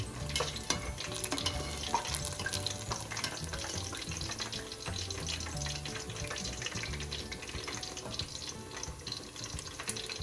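Food frying in hot oil, with a steady crackling sizzle running throughout at moderate level, mixed with watery bubbling and no talking.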